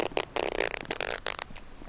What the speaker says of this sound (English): he farts right here